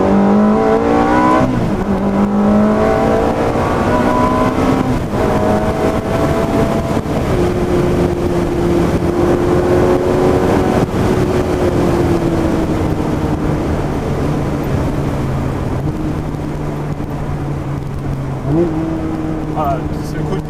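A Ferrari 360 with a reprogrammed F1 Challenge Stradale gearbox revs under throttle, a loud, sustained engine note climbing and holding through the gears from inside the car, with a voice talking over it.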